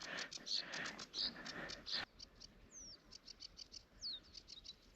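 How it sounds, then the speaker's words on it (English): Small birds chirp in quick, repeated high notes beside the Wick River path in Caithness in the early morning, a denser burst at first and then sparser calls with a few rising whistles, fairly faint outdoors with no talking. "Can you hear those birds?"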